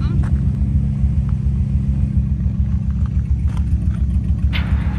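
Loud, steady low rumble of a Volvo car engine held under load while sliding sideways on asphalt, a continuous droning growl filling the whole stretch with faint scuffs on top.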